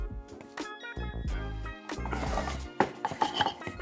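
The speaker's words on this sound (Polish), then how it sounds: "To zacznij od krojenia warzyw" A knife chops vegetables on a board in a quick series of sharp knocks, close by, with some kitchen clatter, no talking.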